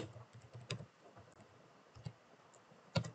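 Keystrokes on a computer keyboard as a PHP artisan command is typed: a sparse, uneven run of soft clicks and taps at low volume, with one sharper key press near the end.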